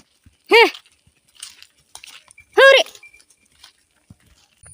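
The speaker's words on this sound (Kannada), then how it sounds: "ನನ್ನ ಹಿಂದೆ ನೋಡಿ ನಮ್ಮ ಪಕ್ಕದ ಮನೆ ನಾಯಿ ಬರ್ತಾ ಉಂಟು ನೋಡಿ." A neighbour's dog following cattle home on a rural path after rain gives two short, loud barks or yelps about two seconds apart, with faint rustling and quiet background between them.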